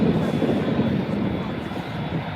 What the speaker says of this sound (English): I'm gonna focus you on the TUI Dreamliner